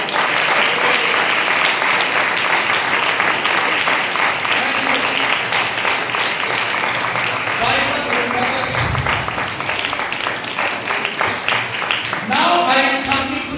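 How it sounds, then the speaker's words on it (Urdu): A church congregation at a sermon applauds loudly and steadily for the whole stretch, dense clapping from many hands with a voice speaking over it near the end. "یہوہ کے لیے زوردار تالیاں بجائیں"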